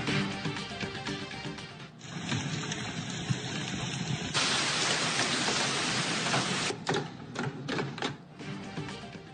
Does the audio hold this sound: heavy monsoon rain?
yes